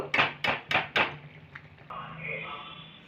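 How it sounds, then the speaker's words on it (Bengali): Crispy fried masala cashew nimki crunching sharply four times in quick succession, loud and close, followed by faint rustling and kitchen background. "এই দেখুন মুচমুচে হয়েছে আওয়াজ আসছে কি সুন্দর"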